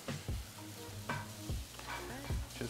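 Onions sizzle softly in a pan as they start to take on color, with a few distinct scraping stirs at intervals over the steady frying hiss; quiet and close, no talking.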